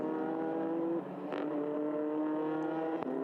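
TCR touring race cars at Spa-Francorchamps stream past one after another, loud engines whining at high revs with shifting pitch as each car passes close by.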